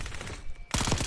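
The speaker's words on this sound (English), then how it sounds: "Enemy sniper shooting." An enemy sniper firing in a video game: a short burst of loud, sharp gunfire with rapid repeated cracks, a brief dip in the middle, then another dense volley.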